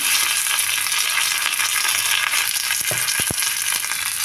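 Mustard seeds, urad dal and curry leaves sizzle in hot oil while a chutney tempering is made, giving a steady loud hiss with a few sharp pops and crackles near the end, close by and with no voices.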